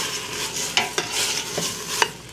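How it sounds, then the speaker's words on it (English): A spoon stirs rice and garlic in a single jambalaya pot over steady, close sizzling, with several distinct scraping knocks against the pot and no voices. "Give that a stir."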